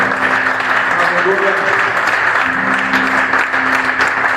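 A church congregation applauds with a dense, steady wash of clapping, joined by voices calling out over it throughout.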